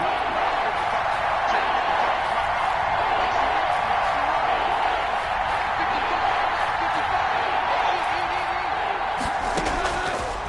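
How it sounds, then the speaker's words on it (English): A football stadium crowd at a Rams versus Titans game roars in a sustained, distant wash of noise before a big third down, with a commentator talking over it throughout. "the crowd getting into it as we come up on a big 3rd down"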